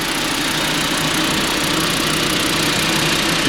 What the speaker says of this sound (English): Engine smooth, 5-cylinder,